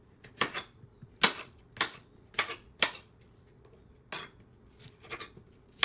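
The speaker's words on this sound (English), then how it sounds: "Just chopping all these apples up." A knife chops apples on a cutting board in a home kitchen, giving a series of crisp, irregular thuds and clicks that repeat roughly every half second against a quiet background.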